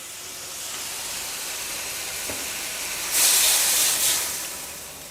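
Plain water poured into a hot pan of Thai jungle curry with cartilage, heard as a steady background hiss that swells into a louder burst of steamy sizzling for about a second before settling back down, with no voices.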